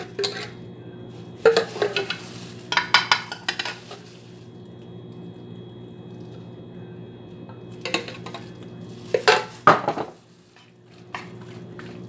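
Béchamel sauce stirred in a pan, bursts of spoon scraping and clinking against the metal in two separate spells with a quiet gap between, close and clear.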